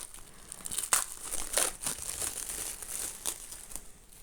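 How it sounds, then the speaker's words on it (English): Wrapping on a Halloween treat box being ripped and crinkled open, close crackling tears and rustles in irregular bursts with a few sharper snaps, and no talking. "In a second, I'm just going to start ripping it."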